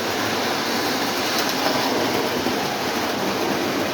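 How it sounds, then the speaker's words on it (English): Lionel model trains running on a layout, a Union Pacific locomotive pulling Budweiser and Michelob beer cars, giving a loud, steady whirring rumble with a continuous clicking of wheels on track. "The Union Pacific is pulling Budweiser and Michelob beer cars"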